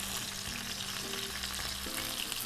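Onion frying in an oiled pan for Cajun jambalaya pasta gives a steady, dense sizzle that runs unbroken throughout, close and even, with faint low tones underneath and no talking.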